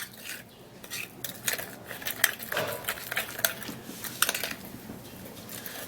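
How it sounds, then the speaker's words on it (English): A spoon works a sugar paste in a bowl, producing soft, close scraping and occasional light clinks in an irregular stirring rhythm with no talk. "I'll have to mix it very well for a smooth paste."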